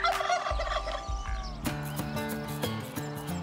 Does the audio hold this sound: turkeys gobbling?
yes